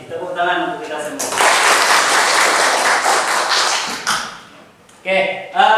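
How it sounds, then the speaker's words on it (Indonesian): Vocational high school class applauding together, a loud dense round of clapping lasting a few seconds, framed by a teacher talking before and after. "Tepuk tangan untuk kita semua."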